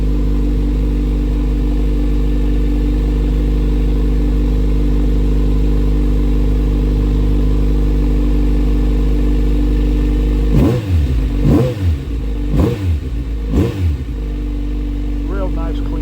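A 2023 Kawasaki Z900RS Cafe motorcycle idles steadily up close, then its engine is blipped in four sharp revs in quick succession before settling back to idle.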